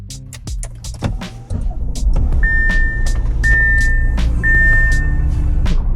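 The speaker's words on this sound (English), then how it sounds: "let's do a cold start on this 2019 Audi Q8" A 2019 Audi Q8 goes through a cold start: clicks and chimes at first, then the engine fires and settles into a loud, steady idle heard close up, with a few short electronic beeps over it and no talking.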